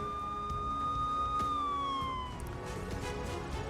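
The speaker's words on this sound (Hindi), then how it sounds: "राजधानी कीव में इमरजेंसी सायरन चालू हुए हैं" Emergency air-raid sirens wailing across Kyiv, their sustained rising and falling tones carrying loudly and continuously with a slight distant echo over city background noise.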